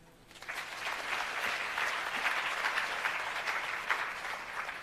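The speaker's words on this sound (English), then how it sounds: "Yeah, a big round of applause for Dr." A crowd at a launch event for technology centres of excellence applauds, clapping swelling in after a quiet moment and holding steady, full and continuous.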